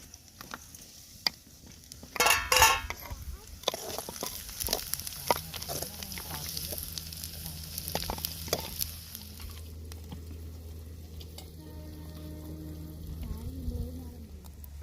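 Green chilies frying in a pan with a quiet, steady sizzle, broken by sharp scraping knocks of stirring, loudest early on, with faint background sounds later.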